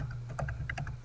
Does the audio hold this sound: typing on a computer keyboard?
yes